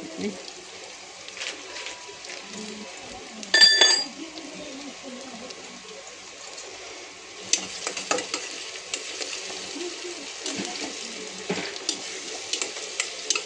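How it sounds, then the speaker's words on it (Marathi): Ginger garlic paste fries in a mix of ghee and oil, sizzling steadily at moderate volume with occasional stirring scrapes and light clinks of a utensil against the pan. "हे चांगलं भाजून घेऊ अद्रक लसूण पण।"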